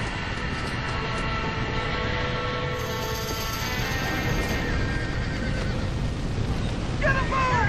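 Horses neighing and whinnying in a burning barn in the video game Red Dead Redemption, loud and continuous over a dense crackling roar, with a shrill whinny rising near the end and no speech.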